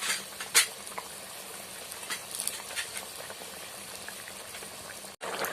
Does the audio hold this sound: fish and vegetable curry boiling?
yes